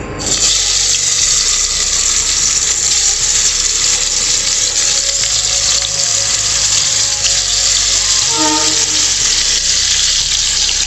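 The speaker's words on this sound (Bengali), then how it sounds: "সেটা এবার আমি ভেজে নেব" Hilsa pieces and tail, marinated in salt and turmeric, frying in hot oil: a loud, dense, continuous sizzle and hiss, close up, with no talking.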